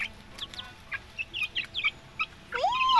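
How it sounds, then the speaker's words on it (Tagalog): Chickens cluck in short, separate bursts, fairly close, with a longer rising call near the end and no talking. "Yung mga manok guys"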